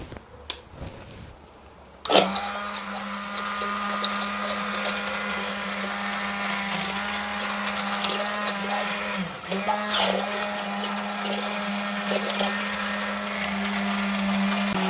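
An electric mixer whips a frozen homemade moisture cream, starting after a few handling knocks and then running loud and continuous with a steady whine and occasional dips.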